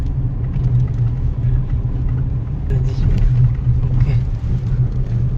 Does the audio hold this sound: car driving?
yes